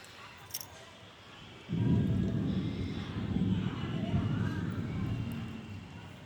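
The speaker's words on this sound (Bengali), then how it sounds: "বৃষ্টি পড়া টুকটাক শুরু হয়ে গেছে।" Soft, steady patter of light rain begins and continues, with a low rumbling background; faint voices may be present.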